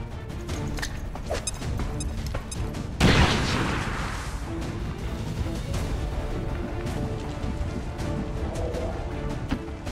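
A frag grenade explodes in a video game, one loud broadband blast at about three seconds, set against a continuous busy bed of game gunfire and battle noise before and after.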